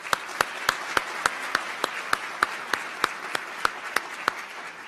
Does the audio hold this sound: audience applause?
yes